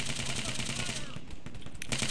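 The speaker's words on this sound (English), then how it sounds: "Where are you getting shot from?" Rapid automatic gunfire in the military shooter Arma 3 during a compromised squad operation, a dense, loud stream of shots filling the first second, then sparser cracks and distant reports.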